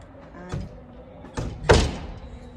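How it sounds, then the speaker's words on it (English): An apartment door in Ayacucho is pulled shut, giving a few close thumps and knocks, the last and loudest as it latches, with quiet room tone between. "So we have to also close well the door."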